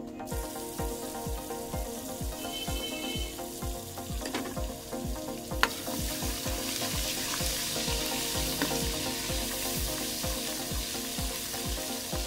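Garlic ginger paste frying in a pan for a chicken and arvi dish, a steady close crackling sizzle with a single sharp clink midway and no talk.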